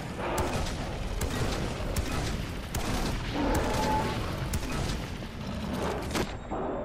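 Dense, sustained gunfire rattling continuously through a yeti hunt in Far Cry 4, with repeated sharp shots layered over a busy, loud game background and no speech.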